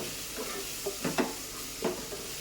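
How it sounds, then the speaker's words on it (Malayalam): Biryani is stirred in a pot, with a few soft scraping strokes from the spoon over a quiet, constant background hiss; brief and nearby, with no talking. "ഇത് നന്നായിട്ട് ഇളക്കി കൊടുക്കുക. അടി പിടിക്കാതെ നോക്കുക"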